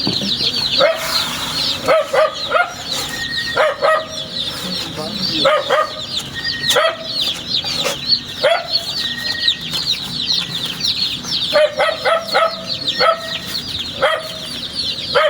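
Chickens at a small chicken farm clucking and squawking up close, with repeated overlapping calls and chick peeps continuing throughout, while people talk at times in the background.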